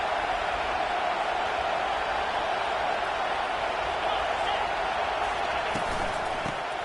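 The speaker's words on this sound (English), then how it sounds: "this crowd is turning it up a notch" A dense, steady roar from the stadium crowd at a Washington at Florida State football game holds constant throughout, loud and unbroken, with no clear individual voices.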